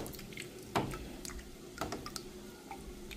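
A washing machine churns a blanket with bedsheets and pillow covers, making faint wet squishes, sloshes and drips at an uneven pace.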